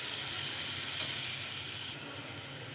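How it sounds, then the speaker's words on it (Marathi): Onion with green chili and garlic paste frying in a pan, a steady close hiss and sizzle that drops slightly in level near the end, with no talk. "यामध्ये घालून घेऊया हिरवी मिरची आणि लसूणची आपण जे जाडसर पेस्ट केली आहे हे घालून 2 मिनिट आपण शेकून घेणार आहोत"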